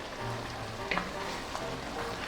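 Ginataang langka with blue crab simmers down in coconut milk as the liquid evaporates, a steady soft sizzle and bubbling with a few light stirring clicks, close and without talk.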